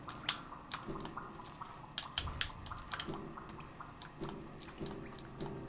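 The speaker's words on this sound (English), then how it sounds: "There's just so many water noises in this horrible pit." Sparse, irregular water drips and soft squishy splashes echo faintly through a dank underground pit in the Hollow Knight video game, scattered taps over a quiet, low ambient background.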